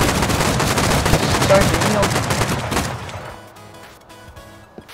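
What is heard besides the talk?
gunfire in the video game Rust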